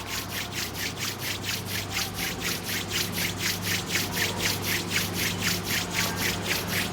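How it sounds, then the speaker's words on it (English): Palms rubbed together slowly during a yoga session, a steady rhythmic swishing friction repeating about three times per second, close and soft, with no talking. "Slowly rub your palms."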